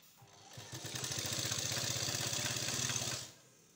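A sewing machine stitching fabric for a golden jari-work sleeve runs in one steady, fast rattling burst of about two and a half seconds, starting and stopping cleanly, close and alone.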